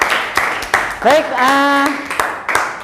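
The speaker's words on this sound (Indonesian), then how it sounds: "Tepuk tangan buat Alia." Classroom applause for a student, a few scattered claps spread across the moment, fairly close and light, mixed with a teacher talking.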